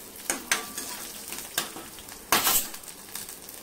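Cumin seeds sizzle in a pan with fried green chillies, a soft continuous frying hiss broken by scraping stirs and a louder clatter of the spoon against the pan, no talking.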